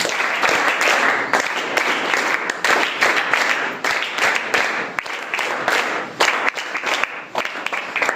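Students and audience at a school assessment event clap in welcome, a loud, continuous burst of applause from a full room lasting several seconds.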